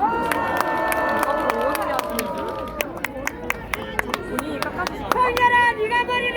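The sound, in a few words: rally crowd applauding committee chairman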